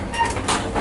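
A Great Southern Rail passenger train rolls along, a steady low rumble and hiss of motion inside the carriage, continuous and moderately loud for under a second, with no talking.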